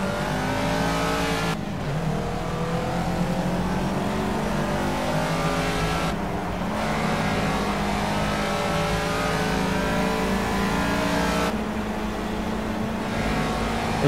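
A Caterham race car engine in Project Cars screams steadily at high revs, held in gear with brief dips and surges as the throttle changes, loud and continuous throughout.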